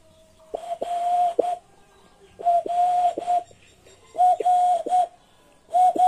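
A human voice imitates the cooing of a female dove, with four short bursts of steady, whistle-like coos at an even pace. Each coo is clear and close, with no other sound.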